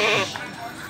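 A kendit goat, a female goat on an Indonesian livestock farm, gives one short, loud, close bleat, followed by quieter ambient noise.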